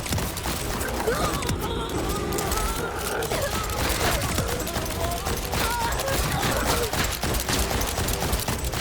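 Jakobs legendary pistol firing in Borderlands 4, a dense steady stream of shots and mechanical clatter over game noise, loud throughout, with a voice talking underneath.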